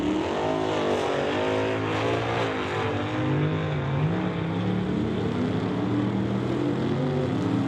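Drag race cars idle and rev at the start line of an NHRA Summit ET race, a blue Mustang beside a 1965 Dodge Coronet, their engines rumbling loudly and continuously with rising and falling revs.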